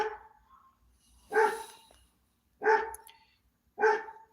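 A pet dog barking indoors, three sharp separate barks spaced about a second apart after a softer whimper, fairly close and alone.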